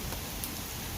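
Steady rain falling outdoors at a tailgate, a close, even wash of drops pattering on surfaces with occasional slightly louder taps, no talking.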